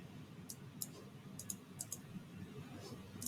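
Computer mouse clicks, a series of faint, sharp clicks at irregular intervals in a quiet room.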